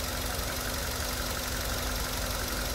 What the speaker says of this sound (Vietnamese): Máy nổ siêu êm các bác này